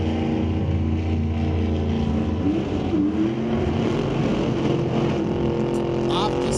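A 57 Corvette Roadster and a 2025-built 69 Camaro Roadster make a side-by-side drag race run at an NHRA Canadian SPORTSnationals qualifying session, engines blaring loud and continuous as they climb in pitch down the track.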